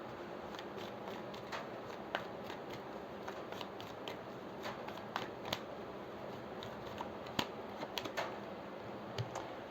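Tarot cards shuffled and drawn, a soft continuous riffling with scattered crisp snaps and flicks of card stock, close but quiet, no talking.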